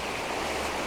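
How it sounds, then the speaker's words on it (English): Very small waves washing onto a beach in early morning, a soft continuous wash of water, close and steady with no talking. "Obviously we've got very, very tiny waves coming in, so nothing spectacular here."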